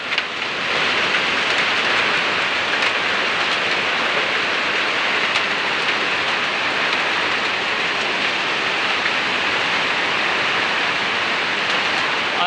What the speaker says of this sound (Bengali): কত বড় বড় শিল পড়ছে দেখেন।